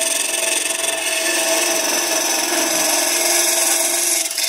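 A Hunter Viceroy hollowing tool cuts into end grain wood on a lathe, producing a steady, continuous close-up scraping rasp that holds evenly throughout with no pauses.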